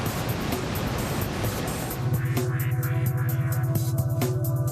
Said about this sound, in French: Les vagues normales sont générées par la poussée du vent et l'empilement des couches d'eau supérieures qui créent la houle